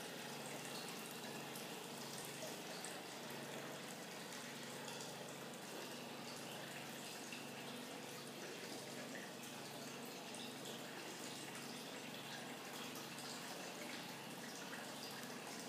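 Water rushes and gushes continuously through a gold-panning sluice carrying sand, a broad, steady flow filling the space with constant splashing noise.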